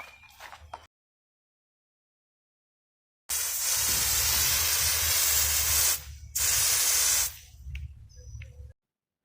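Water spraying outdoors in the sun from a worn, cheap spray nozzle: a loud, steady broadband hiss lasting about three seconds, a brief break, then another burst that tapers off.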